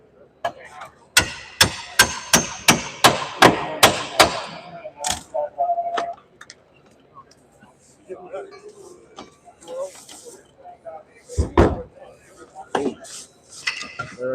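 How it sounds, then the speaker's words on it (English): Firefighters on a training course strike a door in a rapid series of about ten sharp metallic whacks, followed by scattered clanks and knocks, with voices around them. "Time starts when they hit the door."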